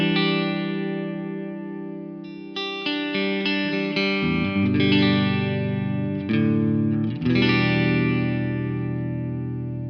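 Electric guitar played clean on the single-coil neck pickup through a Fender-style amp model, ringing chords and sustained notes with steady picking and a clear harmonic tone, heard alone and fairly loud.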